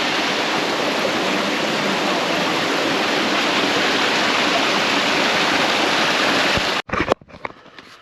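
Bains Brook Falls on a brook pours in a loud, steady, close rush of water that cuts off abruptly near the end, leaving a few handling knocks.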